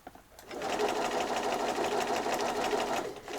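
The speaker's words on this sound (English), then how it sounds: "I'm just following the 1 centimetre seam allowance guide on my sewing machine there" After a brief pause, a sewing machine whirs into rapid, steady stitching and runs continuously for about three seconds, close by.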